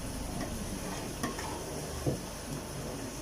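A spoon stirring milk as it simmers in a pot with cardamom powder, giving a faint steady bubbling hiss and a few soft metallic scrapes and taps, close and quiet with no talking.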